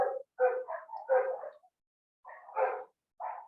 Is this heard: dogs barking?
yes